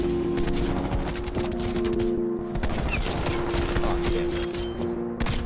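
Rapid bursts of gunfire from Call of Duty: Black Ops Cold War multiplayer, dense fusillades and automatic fire running continuously over game music, loud throughout with no talk.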